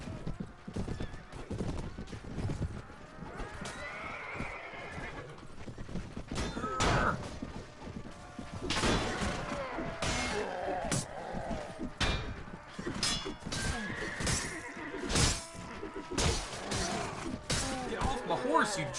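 Horses in Mount and Blade: A Clash of Kings neigh and whinny amid clip-clopping hooves, thuds and clanks of battle, with someone talking intermittently over the din.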